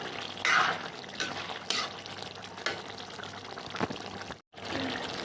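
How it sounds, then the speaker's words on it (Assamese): Chicken meat and potatoes bubble and simmer in a pot, a continuous close hiss and gurgle with a few louder stirring or splashing bursts and a brief dropout near the end. "মাংস ধুনীয়াকৈ উতলি আছে, হ'বগৈ আৰু শেষ পৰ্যায় পাইছেগৈ।"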